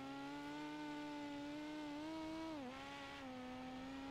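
Race car engines in a dirt-track sim racing video game buzz steadily at a high pitch, their tone sliding down briefly as they pass, loud and continuous without any talking.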